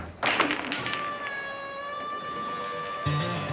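A sharp crack of pool balls struck with a cue in a bar game against a local hustler, one hard tap followed by a ringing decay and a second knock near the end.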